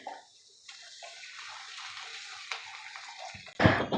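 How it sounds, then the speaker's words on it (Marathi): Water pours into a pot of Manchurian soup in a short, louder splashing burst at the end, after a few seconds of quiet kitchen background. "आता यामध्ये आपल्याला पाणी ओतून घ्यायचं आहे"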